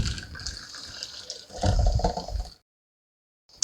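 A liquid ice cream mixture is poured into a Pampered Chef ice cream maker, a steady gurgling pour with a thicker glugging surge near the end before it stops, followed by a brief click.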